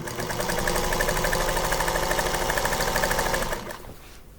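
A sewing machine stitches binding onto a quilt with a loud, close, rapid, even mechanical chatter. It runs for about three and a half seconds, then winds down and stops.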